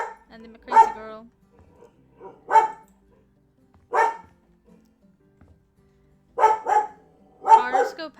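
A dog barks in short separate bursts, a handful of loud, close barks spaced out with quiet gaps between them, heard alone without talk.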